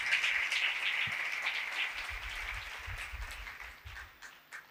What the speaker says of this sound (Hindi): जोरदार तालियां दीजिए।